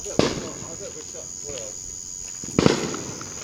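Backyard fireworks going off in Morrison, Oklahoma, two sharp distant bangs a couple of seconds apart over a steady hum of night insects.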